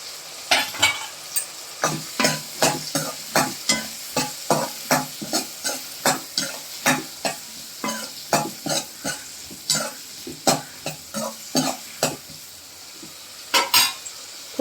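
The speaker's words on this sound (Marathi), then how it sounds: "कांदा परतून घेऊया." Onion sautéing in a pan while making sambar, with rhythmic scraping and stirring strokes of a spoon against the pan over a steady sizzle, close and distinct, repeating about every half second with a short pause near the end.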